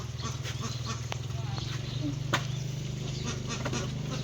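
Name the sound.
ducks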